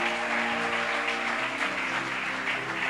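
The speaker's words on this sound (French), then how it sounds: "On peut acclamer le Seigneur en nous asseyant." A church congregation claps steadily in praise of the Lord, a dense continuous applause heard from within the crowd at moderate distance, with a low musical hum underneath.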